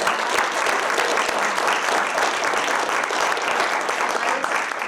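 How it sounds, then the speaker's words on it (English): A room of attendees at a Democratic town committee organizational meeting clapping in a steady round of applause, even and sustained throughout with a faint murmur of voices beneath. "I think we just need a round of applause."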